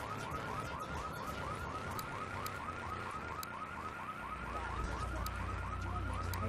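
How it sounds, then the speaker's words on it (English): A car alarm in the GTA3 video game wails loudly and steadily, its repeating rising whoops cycling without pause over a low rumbling engine and background game noise. "there is an alarm, so gotta be careful"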